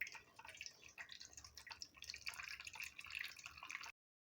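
Beef paye (trotter) broth is poured off into a bowl, a close, busy trickle of splashing and dripping liquid that runs steadily, then cuts off abruptly.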